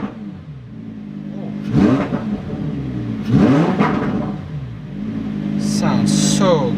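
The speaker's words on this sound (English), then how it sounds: "Rev it up in Corsa mode." Lamborghini Huracan engine revving in Corsa mode, several sharp rising revs that climb and fall over a steady idle, loud and close, with a voice speaking over it at the end.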